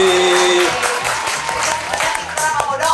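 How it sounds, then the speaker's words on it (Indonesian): Clapping from a small studio audience during an Indonesian talk show, a loud, dense patter of hands lasting a few seconds with faint voices mixed in. "gua tepuk tangan dulu buat Joy"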